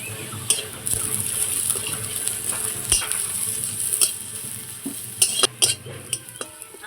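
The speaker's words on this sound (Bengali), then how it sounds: "আলু সেদ্ধর জন্য পেঁয়াজ ভাজছি।" Onions fry in a pan for mashed potatoes, a steady close sizzle broken by the clinks and scrapes of a utensil stirring against the pan.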